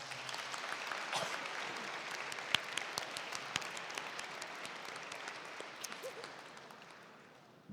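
An audience at the PORGMUN 2026 model UN opening ceremony applauds steadily to welcome arriving student delegations, a dense, sustained clapping that holds for several seconds before tapering off.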